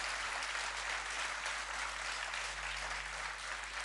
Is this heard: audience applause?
yes